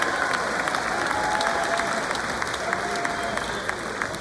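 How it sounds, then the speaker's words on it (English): A large crowd applauds at the NFL Hall of Fame Gold Jacket Ceremony, a dense, steady roar of clapping that holds evenly throughout, with faint crowd noise beneath. "another round of applause for Dan Fouts"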